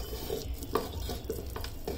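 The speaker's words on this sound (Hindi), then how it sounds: "चने की दाल को हम थोड़ा मैश कर रहे रई से" Cooked chana dal mashed with a wooden churner in a pot, a run of soft, irregular scraping and stirring knocks at close range, fairly quiet.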